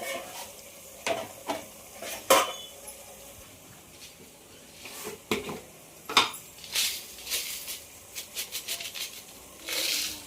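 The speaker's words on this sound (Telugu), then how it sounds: "మటన్ వేసుకొని కలిపి వేసుకోవాలి బాగా" Mutton curry being stirred in a pan, a spoon scraping and knocking against the metal in irregular bursts over a low sizzle.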